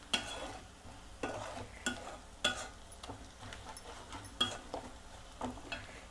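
A spoon works through a chapati curry mixture with coriander powder in a pan, giving soft scrapes and clinks at an irregular rhythm over a faint sizzle; quiet and close, with no voices.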